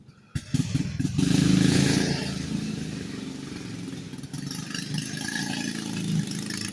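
A loud, near mini dirt bike rides along a residential side street in Pottstown at 3 a.m., its engine snapping on abruptly, rising to a buzzing rev, then holding a rough steady drone as it passes.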